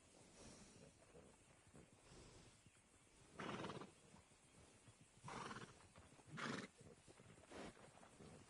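A ranching horse in a PS4 game snorts and whinnies in several short, faint bursts over a low rumbling ambience, with hoof clops between them.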